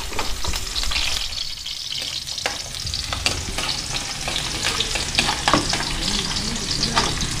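Onion, garlic and ginger sauté in a hot pan, a steady loud sizzle with stirring scrapes and clinks running throughout, no voices.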